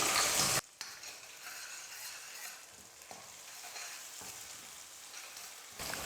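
Ground mint paste and curry leaves dropped into a hot pan, a loud burst of sizzle at first, then steady frying crackle with scraping stirs throughout, close up with no talking.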